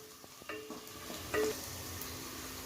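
Ground mint and onion masala paste drops into a hot pan for spicy mint pulao and starts frying, a steady close sizzle with a few soft stirring scrapes and clinks.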